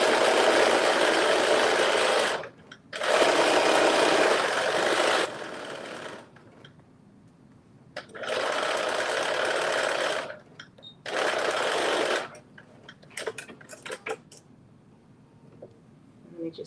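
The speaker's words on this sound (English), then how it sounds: "Again, I'm sewing this together at" A sewing machine stitches a 5/8-inch seam on a Know Me 2042 garment in four loud, close runs of steady whirring, separated by pauses, then a few soft clicks and handling noises near the end.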